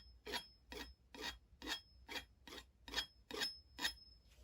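Palette knife scraping and dabbing paint onto canvas while painting a distant landscape with trees, heard as about nine rhythmic raspy strokes, close and fairly loud, evenly spaced with brief pauses between them, no talking.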